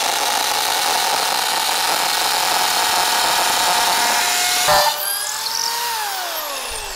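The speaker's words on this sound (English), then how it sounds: "Busted out the hammer drill to start drilling into the concrete" A hammer drill bores into concrete with a loud, continuous grinding roar that holds steady for several seconds, then suddenly cuts off and winds down.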